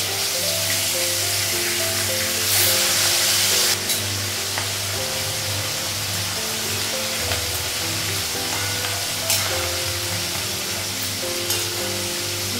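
Fish sizzles steadily in hot oil in a pan, a loud, continuous crackling fry with occasional stirring bursts and no talking.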